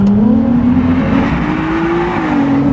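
A Ferrari 296 GTB's 3-litre V6 revs loud and close, its engine note climbing in one steady, sustained pull with no talk over it.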